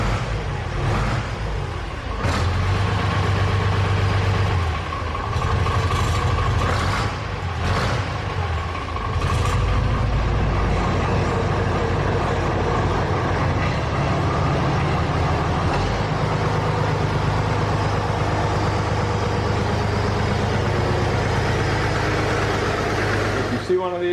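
Deutz air-cooled diesel tractor engine idling steadily, a loud continuous low rumble with a rattly clatter throughout, close by and without talk.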